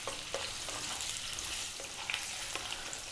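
Potato pieces fry in a hot pan over above-medium heat, giving a steady, dense sizzle with occasional crackles and pops close up and no voices.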